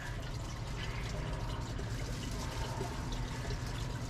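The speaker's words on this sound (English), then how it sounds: "a little water into a cup" Water poured into a cup while tending a Kratky hydroponic setup, a steady close, even splashing rush that runs unbroken for about four seconds with no talking.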